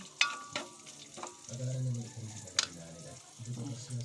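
Garlic and onion hit a hot pan with a brief sizzle and a few sharp spatula scrapes, while a voice talks partway over the frying.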